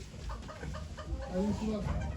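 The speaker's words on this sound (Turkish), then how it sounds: "Açalım açalım bir tane köy tavuğu" A village chicken clucks in short repeated calls at a chicken auction in Ankara, fairly close, with a steady low background murmur and some voices in the surroundings.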